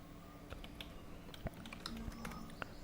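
Code is typed on a computer keyboard: faint, irregular keystroke taps in uneven bursts, close by and quiet, with no voices.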